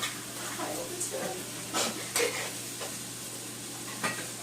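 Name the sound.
stir-fry noodles frying in oil in a pan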